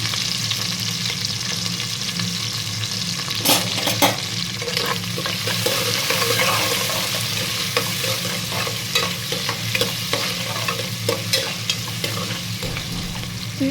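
Onions for a fish curry tempering sizzle and crackle steadily in hot oil. The frying hiss is continuous, with occasional stirring clatter and no talk.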